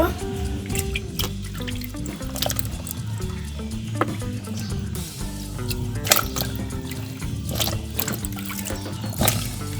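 Cut ash gourd pieces are washed by hand in water for a murabba: wet splashing, dripping and clattering of pieces in a bowl or sink, with a steady tonal background, likely music, underneath.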